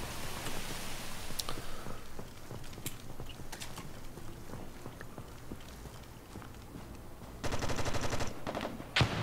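Gunfire during a competitive first-person shooter match, with scattered single shots and clattering weapon sounds throughout and a dense, loud burst of rapid automatic fire near the end.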